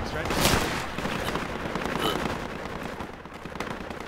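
Scattered shots in a Project Reality forest skirmish, faint and distant, crackling under a noisy background with a slightly louder burst early on and occasional sharper pops afterward.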